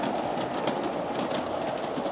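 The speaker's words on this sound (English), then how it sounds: "On this particular unit train of refrigerator cars, I'm running Bachmann Pepsi-Cola cars" A Bachmann model train pulling old-time wood-sided Pepsi-Cola refrigerator cars rolls steadily along toy track with a continuous close rumble and rhythmic clickety-clack of wheels over rail joints, heard alone.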